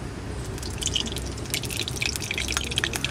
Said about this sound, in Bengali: এবার এই তেলের মধ্যেই আমি দিয়ে দিচ্ছি ঘি।